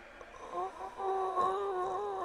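Snoring in the horror video game Five Nights at Freddy's Rewritten 87, a low, rasping, purring drone that swells and holds, fairly quiet, with no talk over it.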